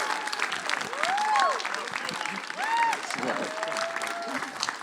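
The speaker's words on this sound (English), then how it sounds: "can you join me in lifting your voices, clapping your hands, making some noise" Steady applause from a church congregation fills the room, with a few cheers and whoops rising over the clapping throughout.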